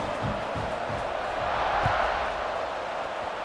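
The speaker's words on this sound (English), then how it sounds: "They're set to kick it off, and this crowd now ready to get behind them." Large football stadium crowd during an American college game before the kickoff, a loud, continuous roar of cheering with scattered shouts and a few sharp bursts over a steady wash of noise.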